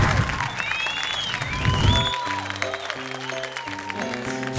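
Studio audience clapping through a comedy show, a dense wash of applause in the first half, then thinning under music with sustained tones and a voice carrying over it.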